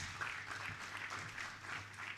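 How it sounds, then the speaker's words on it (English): Audience applause at a university campus hub launch event, steady clapping from a crowd lasting a couple of seconds without a break. "a bigger applause for"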